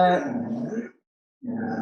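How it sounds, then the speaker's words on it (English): A dog growls in two low, rumbling bursts close by, the first running nearly a second before a short silence and the second starting again near the end. "now that's someone's dog"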